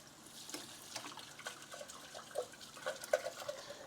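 A kitchen tap runs faintly while dishes are rinsed in a sink, a soft steady trickle with small splashes and light clinks near the end.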